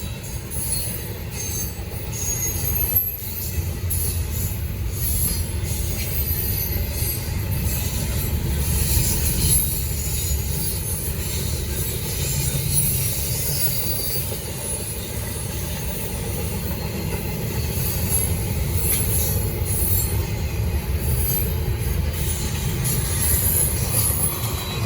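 A Norfolk Southern freight train rolls past at Gaffney, South Carolina, a steady, loud rumble of railcars and wheels with occasional high squeals, continuous for the whole stretch with no talking.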